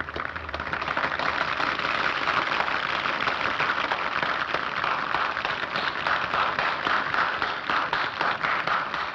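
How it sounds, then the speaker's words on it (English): Opera-house audience applause after the performance in Citizen Kane, a moderately loud, steady wash of many hands clapping that holds evenly throughout. "And the opera ends, and there's some applause"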